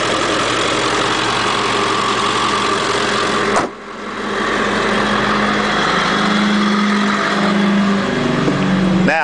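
A Ford 7.3 Power Stroke turbo diesel V8 in an E450 van bus limo idles steadily and loudly up close, with a brief dip in the rumble partway through before it settles back to an even chug.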